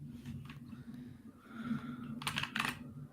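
Keys tapped on a computer keyboard while working in the Vim editor, a few quiet clustered keystrokes over a low steady hum, with a couple of louder clicks near the end.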